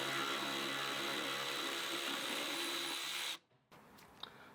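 A power drill or driver whines steadily and loudly while backing screws out of a BMW E36 headlight assembly, then cuts off abruptly into near silence with faint clicks.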